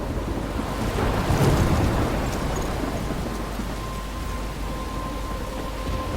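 Storm in the video game Life Is Strange: steady heavy rain with a deep rolling thunder rumble swelling near the start, then a continuous downpour and wind to the end, with no talking.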